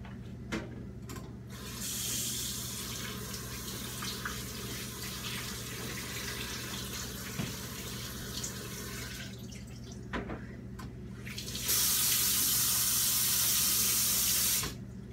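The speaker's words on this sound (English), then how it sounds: "I just put some water over it" Tap water runs steadily over meat in a kitchen pan, a continuous splashing stream with a brief pause and a louder, brighter gush near the end, no talking.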